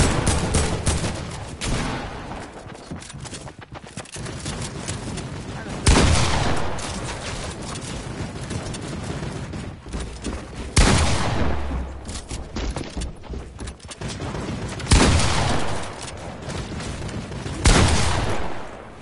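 Turret fire in an online shooter comes in loud repeated bursts about every few seconds, with softer shots and faint voices between them.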